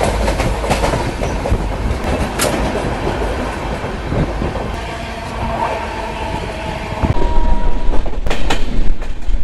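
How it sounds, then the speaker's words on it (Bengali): The Sealdah–Puri Duronto Express runs at speed on the rails, a loud continuous rumble and clatter of the carriages heard from on board, swelling louder near the end. "দমদমের পর থেকে দেখতে পাচ্ছি ট্রেনের টান কিন্তু দারুণ ধরেছে।"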